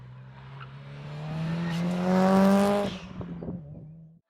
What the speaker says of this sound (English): he did of course take the Impreza around the track, and being a Subaru Impreza that has been tuned as well, it got around the track pretty rapidly